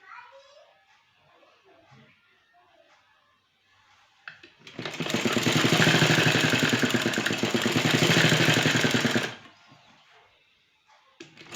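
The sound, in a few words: sewing machine stitching kurti sleeves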